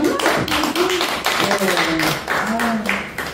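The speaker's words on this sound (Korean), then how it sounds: "하늘에 계신 우리 방정환 선생님께 좀 응원의 박수를 한번 보내주세요." Audience clapping at an outdoor children's theater festival in a theater village in Hwaseong, Gyeonggi-do: a run of sharp, scattered claps across the whole stretch while a voice keeps talking over them.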